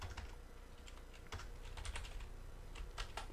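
Fingers type rapidly on a computer keyboard while working in an Excel spreadsheet, a quiet, continuous patter of clicking keys with no talking.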